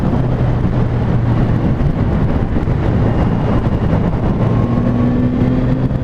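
A Kawasaki Z900 RS motorcycle ridden on a cold road, engine droning steadily under heavy wind rush across the microphone, with a rising tone near the end and no talk.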